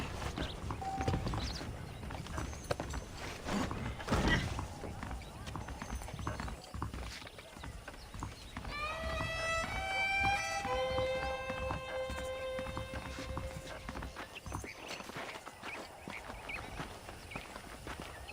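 Horse hooves clip-clop at an even walking pace in the Western video game Red Dead Redemption, with a whinny partway through, game music, and voices speaking over the hoofbeats.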